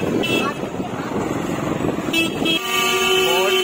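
Busy Indian road traffic rumbles past with engines and motorbikes close by, and car horns toot in short blasts and one longer sustained honk toward the end, while someone talks over the noise.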